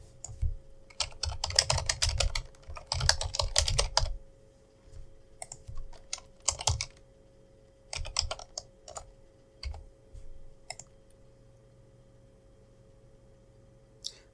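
Someone typing an Apple ID on a computer keyboard: close, crisp bursts of key clicks in clusters separated by pauses, thinning out to a few isolated taps near the end over a faint steady hum.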